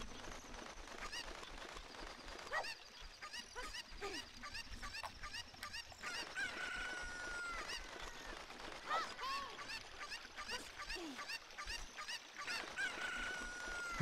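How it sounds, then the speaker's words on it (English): Clucking and squawking from a chicken in the video game Ocarina of Time repeats steadily throughout, mixed with busy in-game background sounds. "I feel like everyone probably thinks Link's a little insane for collecting this chicken repeatedly."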